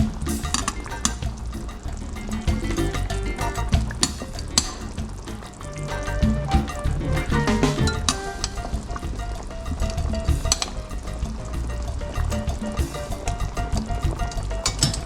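Chicken pieces for a Spanish chicken stew with tomatoes and peppers sizzle and fry steadily in a hot pan, a dense, continuous crackle with occasional louder spits, close and loud with no talking.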